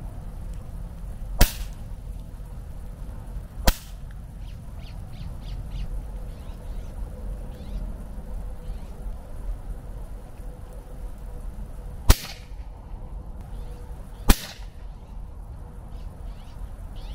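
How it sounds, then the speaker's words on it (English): Shots from Cuban and Prophet airguns outdoors, four sharp, isolated cracks spaced seconds apart over a faint background of distant birdsong. "I'll be taking a shot with both the Cuban and the Prophet just to show the difference in sound"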